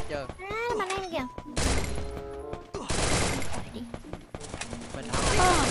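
Rapid bursts of gunfire crack through a Garena Free Fire match, repeated volleys and sustained automatic fire near and loud, mixed with someone talking excitedly over the shots.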